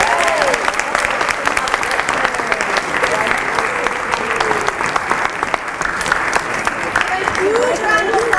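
An audience at a Concord High School Poetry Out Loud contest claps for the winner with dense, sustained applause, loud and even throughout, and voices and cheers are mixed into the crowd noise.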